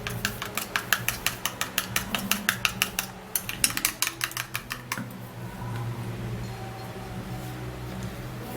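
Egg whites mixed in a bowl as part of a potato face-mask recipe: a rapid, regular run of close tapping strokes for about five seconds, then the strokes stop and a low room hum remains.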